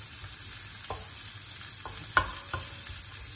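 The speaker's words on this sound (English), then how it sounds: "Now I move the guanciale in all the pot." Guanciale frying in a pan for carbonara, a soft steady sizzle with a few light clinks and scrapes as it is stirred around.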